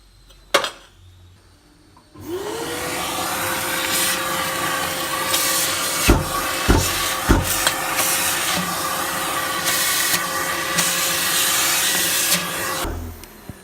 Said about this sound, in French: on a évidemment un peu de poussière partout sur les zones horizontales et on va aspirer